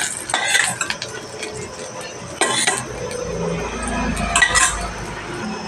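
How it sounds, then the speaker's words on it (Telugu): Fried green chillies are scooped from a pan into a bowl, with metal spoon scrapes and clinks against cookware over a faint background sizzle, in several short clusters. "ఇవి తీసేస్తున్నాను, వేరే బౌల్లో వేసుకుంటున్నాను"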